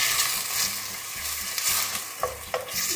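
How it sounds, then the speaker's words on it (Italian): Chopped onion sizzles in hot oil at the start of a mushroom and pea risotto, a close, continuous crackle broken by bursts of stirring and scraping, with no talk. "Adesso io faccio friggere il tutto"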